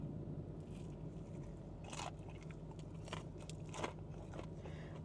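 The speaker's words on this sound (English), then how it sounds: "Listen to this crunch." A Saucy by KFC fried chicken tender crunches as it is bitten, a few sharp, close crackling bites over a quiet background hum, with no talking.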